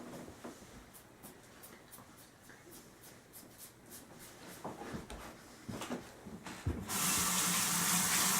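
Shave soap rinses out of a razor under a running tap, with soft splashes and clicks that give way to a strong, steady gush of water near the end.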